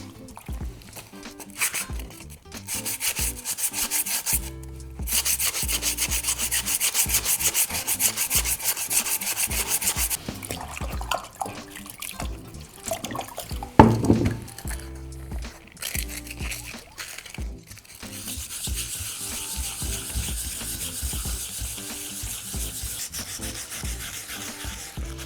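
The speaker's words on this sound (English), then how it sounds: "So I've finished sanding with my 120 grit." A resin terrazzo tray is hand-sanded with 120 grit sandpaper under moderate pressure, making close, continuous rasping strokes that shift in rhythm and briefly pause.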